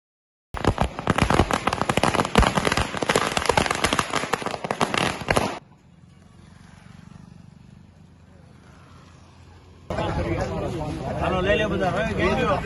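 Firecrackers set off at a BJP celebration in Gadhada, a rapid dense string of loud crackling bursts that stops abruptly, followed by quieter ambience and then loud crowd noise.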